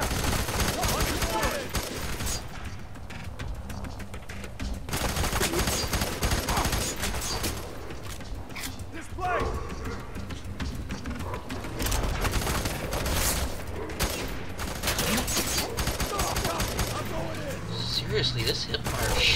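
Gunfire in the first-person shooter F.E.A.R. 3, a dense, continuous barrage of shots and explosive bursts during a firefight, with game voices and player talk over it.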